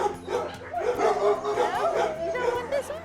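Dogs and puppies at an animal shelter yip, whimper and give short bow-wow barks in a busy mixed chorus, close by, while people talk over them.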